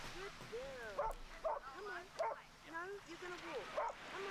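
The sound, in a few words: small dog yipping and barking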